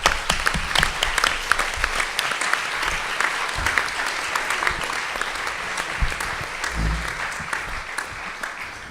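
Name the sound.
audience applause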